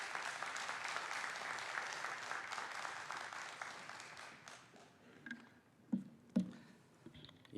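A church congregation at a Sunday worship service applauds to welcome the pastor to the pulpit, a dense, steady round of clapping that fades after about four seconds into scattered thumps and faint room noise.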